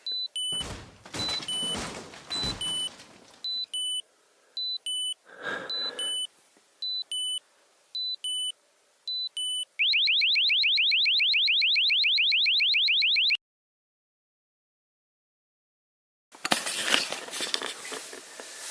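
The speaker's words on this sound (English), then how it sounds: "But the alarm went off" Repeated electronic beeps sound in short bursts, then a loud continuous warbling RV alarm blares for a few seconds before cutting off, followed by rustling.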